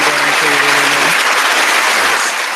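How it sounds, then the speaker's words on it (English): Broad, loud wash of applause, dense clapping heard as a recorded sound effect in a radio studio, with a voice speaking low underneath at the start before fading slightly toward the end. "Like fade the applause in."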